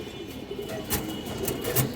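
Pigeons in a loft of large fancy breeds give soft, low cooing calls over a steady background hum, with a few brief brighter sounds scattered through.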